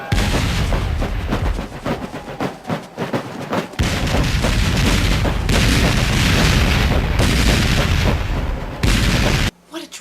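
Cannon artillery bombarding Fort Sumter in the South Carolina harbor: loud, continuous booming volleys and overlapping blasts roll on without pause for the whole stretch, then cut off abruptly near the end.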